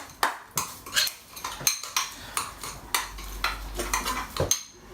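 Instant pot noodles mixed with salt and cracked black pepper, with repeated utensil scrapes and clinks against the pot in a steady stirring rhythm, close and clear.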